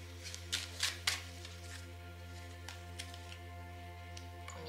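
Tarot cards being shuffled for a draw: a few quick riffling bursts in the first second, then sparser soft flicks over a steady low electrical hum, close and fairly quiet, with no talking.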